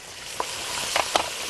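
Onion frying in a hot pan for a chicken and rice dish. A soft, steady sizzle runs throughout, with a few brief crackles and pops.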